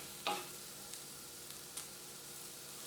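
Potatoes frying in a pan, a soft even sizzle with a couple of brief scrapes or clinks, fairly quiet and close, no voices.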